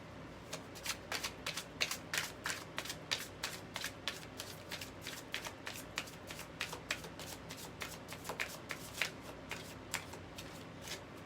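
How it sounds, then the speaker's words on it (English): Cards riffle and snap in a steady run of crisp, close clicks, repeated shuffles with short pauses, no voices. "This deck is so clean, so nice. It shuffles so nicely"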